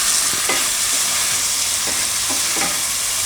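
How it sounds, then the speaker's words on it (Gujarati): Onion, with garlic and spring onion, frying in a pan: continuous loud sizzle with occasional soft stirring scrapes, no voices. "તો થોડીક વાર ડુંગળીને પાકવા દઉં આમાં,"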